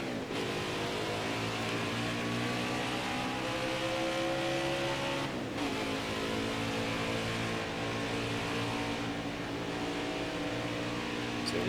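A NASCAR Heat 5 race truck engine drones steadily and loudly at high revs throughout a Florida truck race, with a brief dip in pitch midway as the throttle eases slightly.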